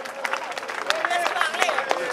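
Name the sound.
crowd applauding at a rally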